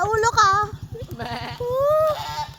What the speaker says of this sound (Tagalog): Ingay ang kambing.